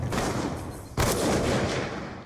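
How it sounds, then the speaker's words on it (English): Heavy automatic fire from a Death Machine weapon in a first-person shooter game, a dense continuous roar with a sharp renewed burst midway, loud and sustained throughout without talk. "let's go for a little death machine shot right now"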